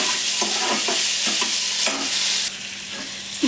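Onion and tomato with a pinch of salt fry in a hot pan, loud continuous sizzling broken by several clanking stirs, with no voices.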